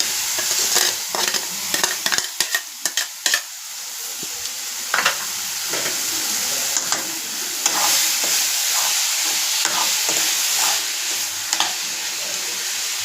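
Sliced banana stem sautéing in a hot pan, with a steady close sizzle and repeated sharp scrapes and clacks of a spatula stirring throughout, no voices.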